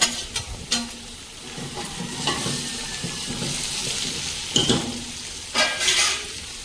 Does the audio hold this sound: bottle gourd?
yes